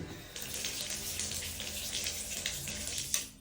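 Steady rush of water running from a bathroom tap in an apartment, broad hissing flow filling the space for a few seconds, close and continuous.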